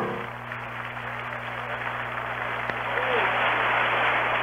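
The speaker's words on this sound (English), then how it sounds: "And now the crowd is electrified" A baseball stadium crowd at a 1965 Yankees–Astros exhibition game cheers and roars, a broad steady swell that grows louder near the end, heard through an old radio broadcast with an announcer talking over it.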